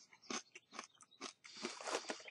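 Loud, close crunches as someone bites and chews a large roasted Inka corn kernel, several sharp cracks followed by a denser run of crackly chewing.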